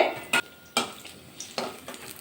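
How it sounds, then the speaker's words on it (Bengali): Brinjal pieces frying in an iron karai, stirred with a utensil: a few sharp scrapes and clinks against the pan over a soft, faint sizzle, with no talking. "বাকি বেগুনটা ঠিক এভাবে ভাজা করে নেব"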